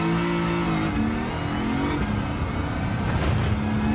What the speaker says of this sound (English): you can hear the supercharger as well